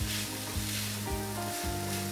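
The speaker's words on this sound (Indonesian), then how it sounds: "Ini kita tumis sampai dia mateng dan agak kering" Sambal urap ingredients stir-fry in a little oil until cooked and fairly dry, a close, loud sizzle pulsing in quick regular strokes as the pan is stirred.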